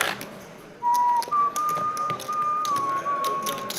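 A person at a live $10/25 cash game poker table whistles a sustained, fairly steady tune up close, with faint table taps and background room noise around it.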